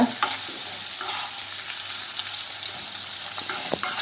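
Ingredients for payasam sauté in a pan over a low flame, with a steady, close sizzle and occasional scraping stirs throughout and no voices.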